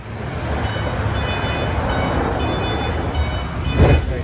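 A BART train rides the eBART extension toward Pittsburgh/Bay Point, giving a steady rumbling roll with a brief louder swell near the end, heard from on board with no one talking.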